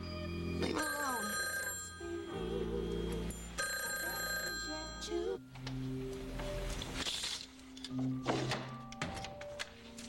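An old-fashioned telephone bell rings in a 1984 television drama scene, with repeated bright metallic rings separated by short pauses, alongside dramatic music and thumping sounds.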